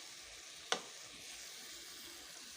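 Kofta frying in ghee in a pan, a steady close hiss of sizzling fat with one sharp pop or crackle early on, fairly quiet overall and with no talking.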